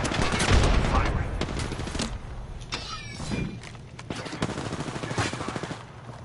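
Rapid bursts of automatic gunfire from the Apex Legends video game crackle in sharp clusters, loud and close, with a few isolated shots between volleys.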